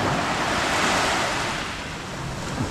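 Sea waves surge in a loud, continuous wash with gusty wind rumbling against the microphone, close and steady throughout, and no one speaking.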